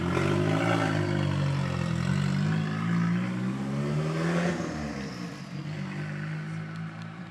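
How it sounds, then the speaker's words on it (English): The turbocharged KA engine in a 240sx drift car revs loud and close, the pitch climbing and falling through a couple of swells before settling back, with no talk over it. "Do you hear the turbo?"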